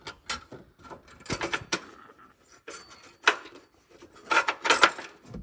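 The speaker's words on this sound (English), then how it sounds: "And then go ahead and slide the bolt in" A carriage bolt worked through the frame of a CURT trailer hitch on a Chevy Trax makes irregular metallic clanks, scrapes and knocks up close, some sharp bursts clustered toward the end.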